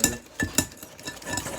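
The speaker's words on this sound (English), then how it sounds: "So I think that's whisked enough." A whisk beats meringue mixture in a bowl, producing a rhythmic series of close metallic clinks and scrapes, about six distinct strokes in quick succession.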